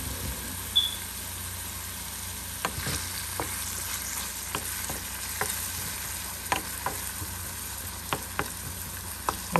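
Tomatoes softening in a pan alongside ground meat on a home stove, a steady low sizzle with sharp utensil taps and scrapes spaced every second or so, close by and without talk.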